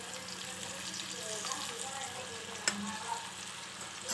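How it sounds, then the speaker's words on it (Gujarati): Long-sliced onion fries in oil with cumin and asafoetida for a potato chips curry, giving a steady, fairly quiet crackling sizzle with faint stirring and one brief knock near the end. "જીરું અને હિંગ થઈ ગયું છે તો હું કાપીને રાખેલી છે ડુંગળી એ નાખી દઉં છું."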